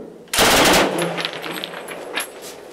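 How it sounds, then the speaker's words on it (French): Gunfire in a D-Day combat video game: a sudden loud, rapid burst of machine gun fire, followed by fainter scattered shots and echoes in the distance. "Il y a des bruits de mitrailleuse?"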